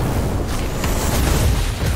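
Fiery Incendio spell blast from Hogwarts Legacy combat, a heavy sustained roar and rumble that stays loud and close throughout with no break.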